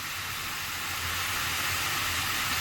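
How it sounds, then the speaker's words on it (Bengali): Potatoes being sautéed in a pan with a steady, continuous sizzle and hiss, close and fairly loud, with no talking over it. "আলু দিয়ে এখন কষানো হচ্ছে"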